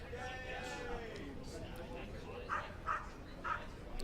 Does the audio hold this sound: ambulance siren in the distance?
no